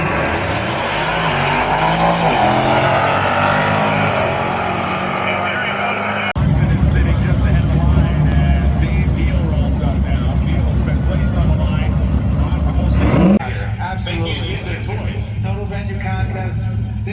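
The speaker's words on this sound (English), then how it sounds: "the track hawk with its ear-splitting exhaust note will be heading down the left-hand side" A Dodge Durango Trackhawk at Roadkill Night roars loudly and continuously, its exhaust rising and changing pitch in sustained revving passes, with the sound dropping abruptly partway through, all close and dense.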